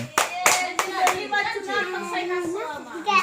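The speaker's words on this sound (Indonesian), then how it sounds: "Tepuk tangan" Children clap several sharp, loud beats at a Christmas celebration, then a voice sings or talks over quieter background sound.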